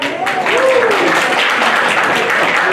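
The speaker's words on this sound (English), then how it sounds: "Everybody applaud the winners" Applause from an audience for raffle winners at a senior event, steady dense clapping filling the room throughout, with a voice briefly speaking over the start.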